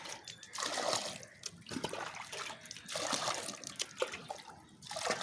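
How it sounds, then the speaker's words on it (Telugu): Faint water running and splashing in uneven surges as a bucket is filled, quiet and somewhat close, with no clear speech. "ఈ బకెట్లో ఇలా ఈ బకెట్ నిండా వాటర్ వేసేసుకొని"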